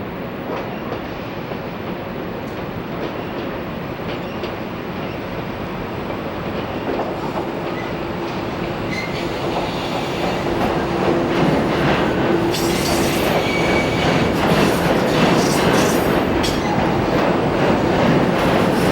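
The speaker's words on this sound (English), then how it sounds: "A New Jersey Transit Electric MU train approaches Penn Station." A New Jersey Transit electric multiple-unit train approaches Penn Station with a steady, loud rumble of wheels on rails that grows stronger, with a faint squealing tone drifting through the middle.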